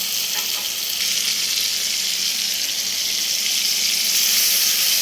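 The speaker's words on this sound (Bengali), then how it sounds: "একটু নেড়ে চেড়ে নিয়ে এর মধ্যে আমি একটু জল দিয়ে নেব" Water hits food frying in a pan, giving a loud, dense hiss that holds steady for several seconds and swells slightly toward the end, with no speech.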